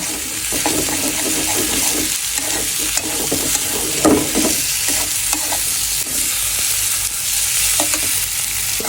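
Tomatoes fry with chicken in a pan, giving a loud continuous sizzle that fills the whole stretch, with frequent scraping stirs up close and no talk.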